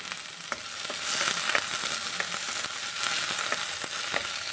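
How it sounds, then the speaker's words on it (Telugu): Tamarind and ridge gourd fry in a pan with a steady, close sizzle, while light taps and scrapes of a stirring spoon recur throughout. "ఒక నిమిషం పాటు వేగనిద్దాం"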